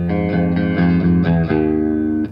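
A Fender JagStang electric guitar through a small chorus pedal plays a short sequence of picked notes with a shimmering, wavering chorus effect, ringing clearly on its own.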